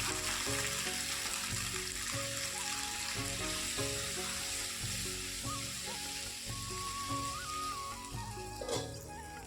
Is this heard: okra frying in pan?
yes